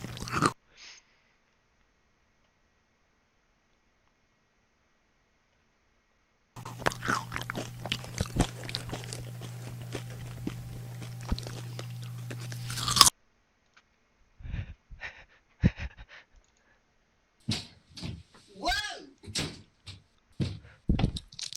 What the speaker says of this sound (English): I got this bag of Aldi brand Doritos here